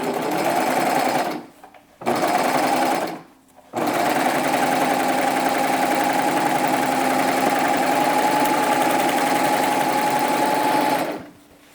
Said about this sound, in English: Lower your presser foot and go ahead and serge that side.